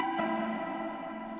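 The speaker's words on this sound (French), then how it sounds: "J'ai rajouté une petite mélodie qui était le pad numéro 1 qui est dans le chill pack" Soft sustained synth pad melody from an Ableton Live chill pack, with reverb, a warm saturation and light distortion, playing as a steady layered chord tone alone without voices.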